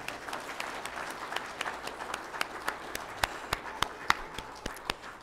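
Applause at a funeral service, with many hands clapping under a few sharp, loud individual claps that ring out one after another.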